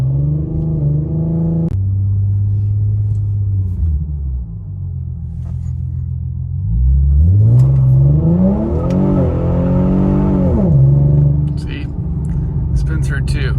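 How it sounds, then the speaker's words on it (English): An Infiniti Q50 launching with both tires spinning, its engine droning loud and close, then dipping before a sharp rising rev that holds high and falls away, with a voice talking over parts of it. "I'm getting both tires to spin, but that's the problem. We're spinning."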